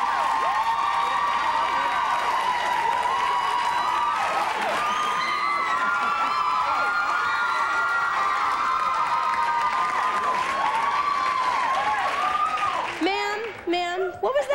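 A studio audience at a 1994 sexiest-firemen show erupts in sustained loud cheering, whooping and applause for the first contestant, a dense roar lasting over ten seconds before tapering off.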